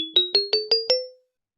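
A ChucK modal bar synth steps through an array of notes, five bright struck tones about 0.2 seconds apart, rising slightly, each decaying quickly. They ring cleanly and alone before fading to silence.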